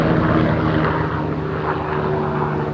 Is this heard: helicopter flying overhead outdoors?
yes